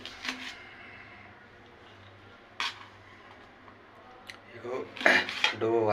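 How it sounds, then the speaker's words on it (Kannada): A knife cuts onions finely on a board for a simple home-cooked meal, heard as sparse, light taps and a short burst of quick chopping near the end over a steady low hum. "ಈಗ ಈರುಳ್ಳಿನೂ ಕೂಡ ಆಲ್ಮೋಸ್ಟ್ ಕಟ್ ಮಾಡಿಕೊಂಡು ಆಯಿತು"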